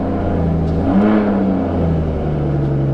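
A Mercedes S55 AMG with the supercharged M113K V8 idles steadily after a rocker cover gasket replacement, a close, even engine hum with a faint rising whine partway through and no talking.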